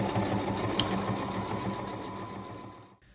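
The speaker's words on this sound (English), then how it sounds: "Add pins all the way through, and then sew this part." Sewing machine stitching the sleeve ends of a haori kimono jacket, a steady continuous motor whir with a brief click near the start, then cutting off sharply just before the end.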